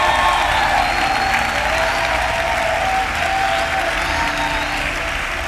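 A church congregation applauds during a worship service, producing a dense, sustained roar of clapping from many hands that holds steady throughout, close and loud with a faint crowd murmur underneath.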